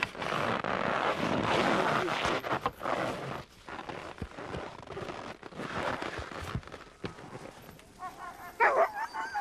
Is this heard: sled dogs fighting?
yes